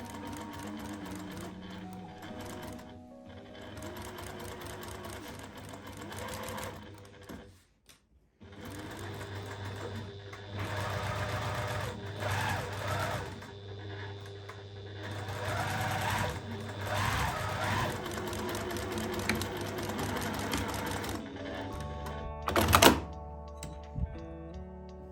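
A sewing machine runs in long steady bursts while stitching the side seams of a bias-cut skirt to form French seams with a 1cm allowance, pausing briefly between runs with a few soft clicks and thunks.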